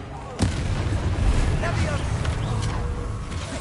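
In the video game Hogwarts Legacy, an Incendio fire spell goes off as a sudden blast that rolls into a dense, roaring rumble, loud and sustained, with a voice calling out over it.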